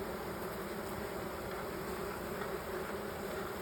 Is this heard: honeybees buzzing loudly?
yes